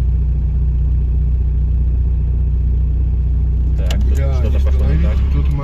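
A diesel Volkswagen Passat B3 in a drag-style race hums with a steady, loud mid-range engine drone, then a rougher, louder surge of engine noise swells near the end, with voices talking over it.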